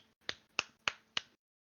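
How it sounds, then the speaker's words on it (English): Four sharp, evenly spaced hand claps sound close into a microphone, each a crisp isolated crack followed by a brief quiet tail, with silence after the last one. "I can like clap my hands into the microphone"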